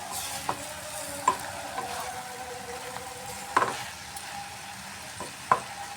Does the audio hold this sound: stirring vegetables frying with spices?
yes